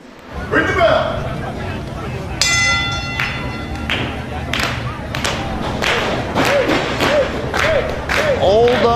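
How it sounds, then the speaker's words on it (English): A wrestling ring bell clangs repeatedly with a sustained ringing tone during a pro wrestling show, loud and close amid thumps, crowd noise and scattered clapping, with a commentator talking throughout. "Ring the bell."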